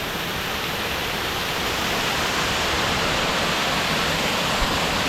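Mangalam waterfall, a family bathing spot, roaring in a continuous broadband rush of falling water that stays steady and loud throughout, heard close with no voices.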